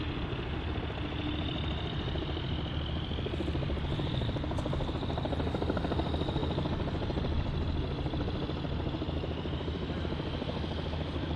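Puma helicopter on a farewell flypast, a loud steady rotor drone and engine whine that holds constant from start to finish without any talk.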